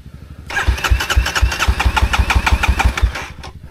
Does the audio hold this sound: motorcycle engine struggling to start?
yes